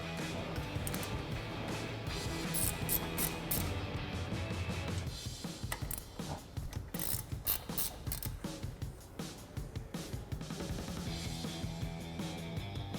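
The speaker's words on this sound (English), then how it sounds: "we're gonna grab our 13mm ratcheting wrench and take our 2 bolts that are holding on our caliper" A 13mm ratcheting wrench backs out the brake caliper bolts on a RAM 1500, its quick clicking ratchet bursts repeating in short rhythmic runs close up, with metallic handling noises in between.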